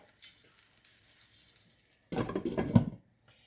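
Apple crêpe sizzling in a pan over a gas heater, a short burst of frying crackle that comes up suddenly after near silence and fades within a second.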